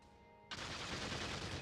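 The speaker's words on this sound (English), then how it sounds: "Pretty explosions all around." Spaceship weapon fire and explosions in the space battle game Eve Online, a dense roaring barrage of rapid blasts bursting in suddenly after a quiet moment and staying loud.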